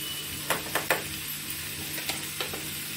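Ground ginger-cumin, coriander-cumin, red chili powder and garam masala sauté in a pan with a close, constant sizzle and a few sharp spatula scrapes and taps; nobody speaks.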